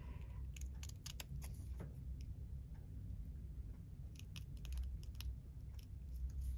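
Scissors snip through paper for junk journal banner embellishments, producing faint, crisp clicks in small clusters, first early on and again later, close by in a quiet room.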